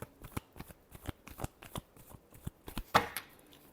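Tarot cards being shuffled by hand during a reading: a quick, close run of papery riffles and taps in an uneven rhythm, with one sharper snap near the end, heard alone and fairly quiet.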